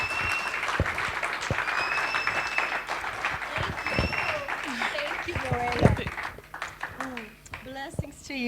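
A church congregation cheers and applauds loudly to welcome a pastor, with dense sustained clapping and whoops throughout, a voice speaking over it and the applause thinning near the end.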